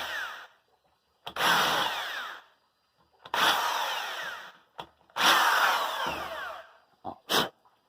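A power drill countersinks screw holes in the frame of a hinged screen door, whining in three short bursts with brief pauses and a couple of quick final taps.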